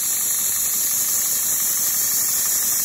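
A homemade model steam engine built during lockdown runs slowly, giving a steady, even mechanical hum with no talking.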